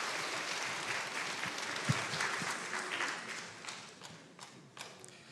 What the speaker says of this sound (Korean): 잘 기르시라고 우리 박수.